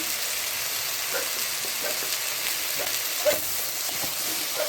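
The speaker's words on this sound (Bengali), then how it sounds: "এখন সুন্দর করে ভাজা ভাজা করে নিতে হবে।" Continuous soft sizzling of taro frying in a pan with salt and turmeric, with occasional light scrapes and taps from stirring.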